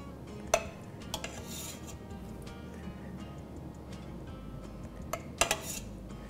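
Sloppy joes are served from an Instant Pot into dishes, with a few scattered clinks of spoon against pot and dish over a quiet kitchen background.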